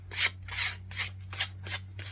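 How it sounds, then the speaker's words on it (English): Edges of a wooden board are sanded by hand with 120-grit sandpaper, giving six soft, scratchy rasping strokes in an even back-and-forth rhythm, close by and fairly quiet. "take some 120, go around the edges. Don't sand them completely smooth."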